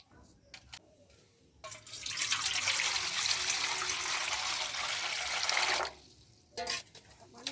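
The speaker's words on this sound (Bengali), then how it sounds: "আমড়াগুলো প্রথমে খুব ভালোভাবে ধুয়ে নিতে হবে।" Young kath amra (hog plums) washed under running water: a steady, close splashing rush of water lasts about four seconds, with quieter handling noises before and after.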